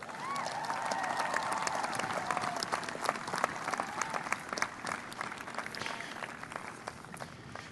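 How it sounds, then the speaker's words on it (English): Commencement audience at a university graduation ceremony applauding graduates' parents, a sustained dense wash of many hands clapping from a large crowd that holds steady for several seconds and tapers slightly toward the end. "So graduates, I want to give your parents a big round of applause."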